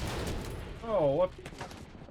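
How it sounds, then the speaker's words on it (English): Grenade launcher fire in the video game The Division, a sharp burst of gunfire-like blasts with a brief whooping tone, heard over ongoing combat noise and talk. "Who's shooting the damn grenades?"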